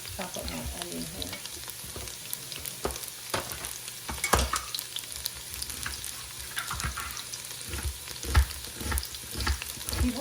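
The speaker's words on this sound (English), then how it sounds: "So let me go ahead and throw my garlic in." Garlic frying in a pan for beef shank soup, a continuous close sizzle broken by scattered sharp clicks and knocks of a utensil stirring.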